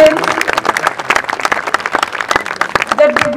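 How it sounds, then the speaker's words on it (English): An audience at a school annual function applauds students, a loud close burst of individual claps in a quick irregular rhythm, with scattered voices and cheers mixed in. "A huge round of applause to all the students."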